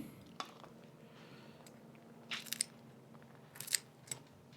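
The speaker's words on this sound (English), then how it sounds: "all that's left to do is crack these babies open" Crab shells crushed open with metal crab crackers on fresh Alaskan crab, a few sharp crunching cracks in quick bursts, close up over a quiet background.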